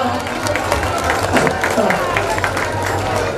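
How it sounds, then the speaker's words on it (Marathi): Audience clapping at a Hanuman Jayanti welcome ceremony in Bormali Tanda, a steady broadband patter of many hands with crowd murmur and voices underneath, sustained at even loudness throughout. "टाळ्या वाजवा"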